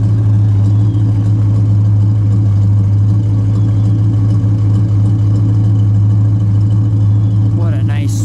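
A 1970 Plymouth Superbird with a 440 engine idling, a steady, deep, mellow low rumble held loud and close throughout, with a brief higher noise at the very end.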